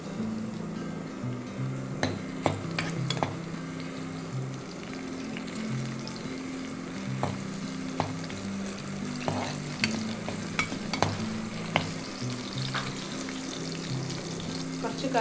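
Sliced shallots fry in coconut oil in a pan for a Kerala-style chicken curry, making a steady, close sizzle with intermittent stirring scrapes and clicks throughout, no voices.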